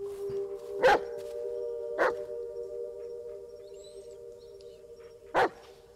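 Three sharp, separate barks from a dog in the horror video game Blair Witch, two close together and a third after a pause, over a steady droning musical tone.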